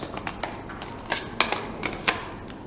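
Fingers tapping a calculator keypad in a quick run of light plastic clicks, fairly faint and close, with no talking over them.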